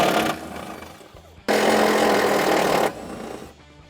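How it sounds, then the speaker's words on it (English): A power tool, likely an impact driver, spins off two bolts from the air box bracket of a Ford Super Duty truck, in two close, loud bursts. "to do that, we got to remove those two bolts"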